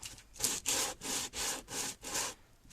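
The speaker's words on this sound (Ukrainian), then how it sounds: "Можна шліфувати вручну," Steady back-and-forth rasping of hand sanding a metal part of a brush cutter, about six even strokes in a regular rhythm, close up, with no voices.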